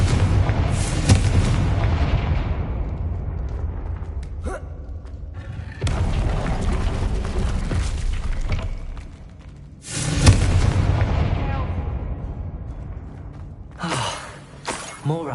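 Confringo blasting spell explosions in the Hogwarts Legacy video game: three loud bursts, each a sharp shattering crack that trails into a long rumbling roar before dying away, the last one shorter and cut off.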